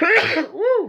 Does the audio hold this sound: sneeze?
yes